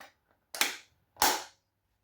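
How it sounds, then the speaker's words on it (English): Two sharp clicking snaps from a kitchen hob's igniter being switched on, about half a second apart, close and loud, each with a brief hissing tail and no voices. "We turn on our hob that we're going to use."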